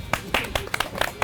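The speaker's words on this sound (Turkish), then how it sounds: "Alkışlarla." Audience at a Turkish comedy show clapping in a short burst of separate sharp claps, fairly faint and close.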